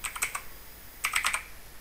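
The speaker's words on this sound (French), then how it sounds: "Et je vais taper rétroviseur." Someone types on a computer keyboard in two quick bursts of close, crisp keystrokes separated by a short pause.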